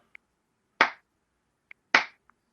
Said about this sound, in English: you get the golf clap